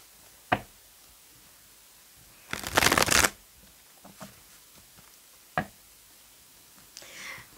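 Tarot cards are shuffled by hand in a few distinct riffles, a short sharp one, a longer dense flutter in the middle, then lighter taps and slides, close and clear in a quiet room.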